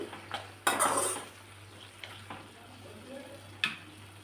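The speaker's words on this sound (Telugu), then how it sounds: "మధ్య మధ్యలో మనం టమాట మగ్గినంత వరకు కూడా మనం కలుపుకోవాలన్నమాట" Tomatoes, green chillies and small brinjals cook in a pan for chutney while a utensil stirs them, making a few clinks and scrapes against a soft sizzle, close and brief.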